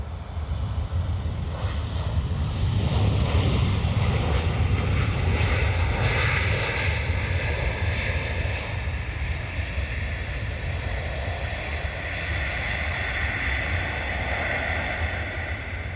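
An aircraft on approach to runway 10 left at Dublin Airport gives a continuous, loud engine roar with wind rumble, steady and sustained throughout.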